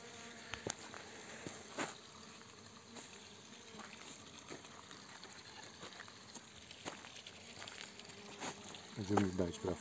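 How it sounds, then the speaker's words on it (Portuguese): Stingless bees working at a meliponary hive on a late afternoon: a faint, continuous buzzing hum with scattered louder passes of bees near the microphone, heard alongside soft background noise and a brief voice near the end. "Olha a frequência que as abelhas estão trabalhando."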